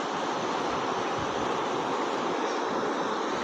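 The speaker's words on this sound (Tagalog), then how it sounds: "ang lakas ng tubig doon sa kabila" A steady, powerful rush of flooded river water after a typhoon, broadband and unbroken like a strong river current, with no voices.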